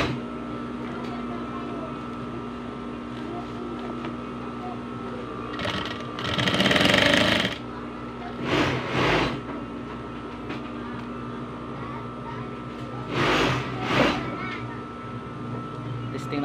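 A single-needle sewing machine stitches through four thick layers of cloth, a steady mechanical hum and whir that swells in several louder bursts as the needle drives through the heavy material. Someone speaks over it now and then.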